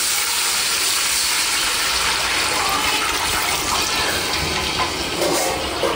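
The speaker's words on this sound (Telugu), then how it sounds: "ఇప్పుడు వాటర్ పోసుకుంటానా" Water pours steadily into a pot of medium deep-fried biryani ingredients, a continuous close gushing and splashing that runs for several seconds without pause.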